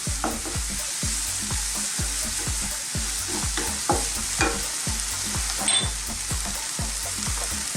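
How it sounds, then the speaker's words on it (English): Garlic ginger paste, a teaspoon each of fresh garlic and ginger, fries steadily in a pan for a goat curry, with a constant bright sizzle broken by rhythmic scraping strokes of stirring throughout. "Now I'm going to put in some garlic ginger paste, like a 50-50 mix."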